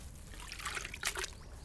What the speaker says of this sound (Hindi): इसको मैं एक बार फिर से इस पानी के टब में डाल दूँगा